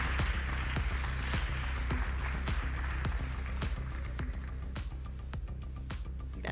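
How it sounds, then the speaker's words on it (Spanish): Scattered, fairly faint clapping from an audience in a conference hall at Congreso Futuro 2023 in Chile, irregular individual claps spread over a steady low hum rather than a full ovation. "Un fuerte aplauso para él."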